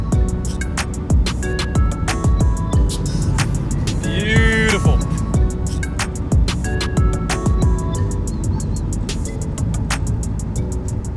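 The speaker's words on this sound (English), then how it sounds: "We'll be driving in this Fiat 500, yes it is my granny's car" A Fiat 500 driving on the road, heard from inside as a continuous cabin rumble with a regular ticking that runs through it and a brief rising whistle near the middle.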